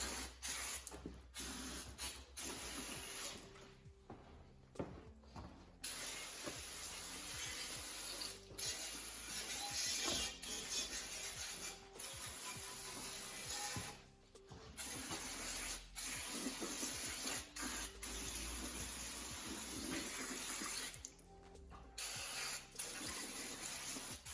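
An aerosol can of brake cleaner sprays in long, loud hissing blasts with brief pauses between them, close up, on a 4L80E transmission bell housing, with no talking.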